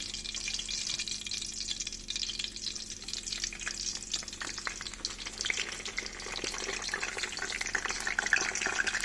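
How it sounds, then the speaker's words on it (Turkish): Steady, loud sizzling of kapya peppers and eggplants frying in hot oil, with crackles and occasional stirring, continuing without pause and with no voices. "Kızartmaya devam edelim."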